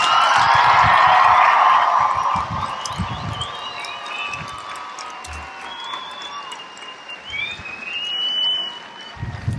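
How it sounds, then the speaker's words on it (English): An audience at a US Air Force basic training coin and retreat ceremony applauds its newest graduating airmen: a loud burst of clapping that quickly dies away, leaving scattered claps and faint background noise. "How about one more round of applause for our newest airmen?"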